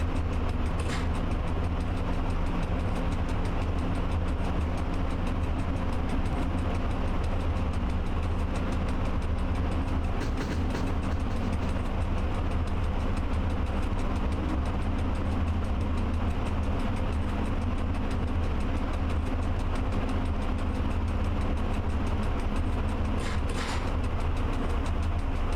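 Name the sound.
train shunting at 40 in the Train Driver 2 video game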